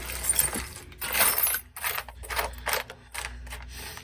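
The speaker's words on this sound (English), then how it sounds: "Grab my big, massive, everybody has one of these bins of random screws and hardware." A hand rummages through a big bin of assorted loose screws and hardware, producing bursts of metallic jangling and clinking that rise and pause irregularly, fairly close and clear with no talking.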